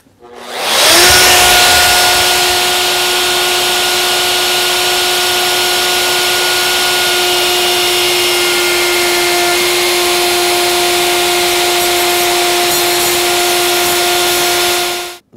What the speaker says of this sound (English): now it's time to route the top